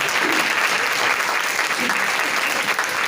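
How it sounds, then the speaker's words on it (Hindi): A church congregation at a Sunday service breaks into loud, sustained applause, a dense wash of many hands clapping steadily throughout with a faint voice beneath it. "मैं चाहूंगा कि उस खुदा के लिए जोरदार ताली"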